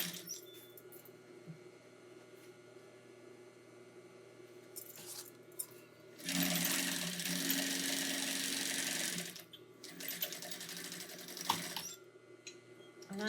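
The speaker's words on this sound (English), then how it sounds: "we're going to sew all the way around the outside of this thing." A sewing machine stitches around the outside of a homemade insulated casserole carrier, with a steady whirring run of about three seconds, a short pause, then another burst of stitching over faint background noise.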